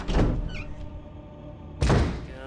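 A door opening in the survival-horror game Resident Evil HD, heard as a loud, low thudding creak at the start and a second heavy thump near the end, with a lingering tonal game ambience between them.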